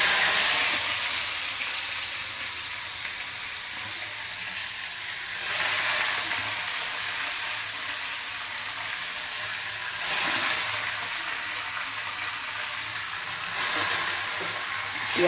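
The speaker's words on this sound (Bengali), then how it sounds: "পেঁয়াজটা ভাজা ভাজা করবো।" Onion with ginger paste frying in a pan alongside bay leaf, giving a steady soft sizzle throughout with a few louder hissing bursts, close up and without talk.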